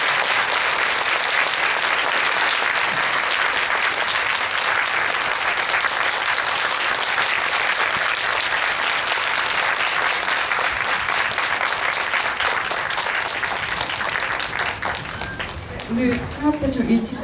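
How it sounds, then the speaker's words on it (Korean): Sustained, dense applause from a cinema audience at a film talk event in a Megabox theater, loud and steady throughout before tapering slightly near the end, with a few faint voices emerging as it fades. "다시 한번 큰 박수 드리면서 마무리하겠습니다"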